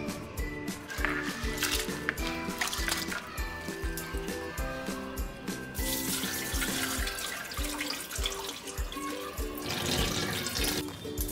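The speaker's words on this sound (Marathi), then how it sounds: "आज ते परत धुवून त्याच्यामध्ये पाणी भरून ठेवणार आहोत" Tap water runs steadily into a sink and vessel, with rhythmic sloshing and splashing as rice, soaked for two days, is washed by hand, close and continuous.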